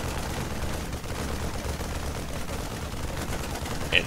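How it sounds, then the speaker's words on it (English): Terran Marines in StarCraft II firing on missile turrets during a match, a steady rattle of rapid gunfire under a busy game soundscape, fairly quiet, ending with a brief sharper burst. "Turrets killing the medevac, and then the Marines killing the turrets."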